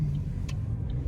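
Car traffic rumbling on busy roads outside a mall, a continuous low engine drone from passing vehicles close by, with a faint short hiss partway through and no talk.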